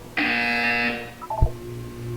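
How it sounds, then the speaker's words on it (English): Electronic buzzer in the video game Portal 2, a single loud harsh tone lasting about a second, followed by a short mechanical clunk and a lingering low hum. "You will hear a buzzer."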